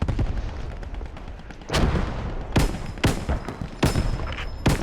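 Artillery fire in a competitive online war video game match: five heavy, booming blasts land at irregular intervals over a steady rumbling battlefield bed, fairly close and loud, with no voices.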